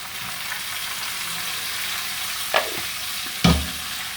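Tomato puree made from two tomatoes hits golden-brown fried onions in a pan, producing a steady close sizzle broken by two short bursts of stirring and spatula scrapes near the end.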